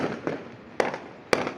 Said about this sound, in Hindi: अब रॉकेट मारो